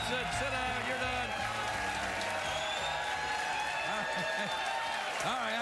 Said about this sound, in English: let your applause die away quite naturally